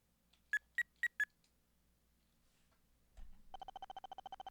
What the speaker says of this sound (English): In the meantime, we can make some phone calls.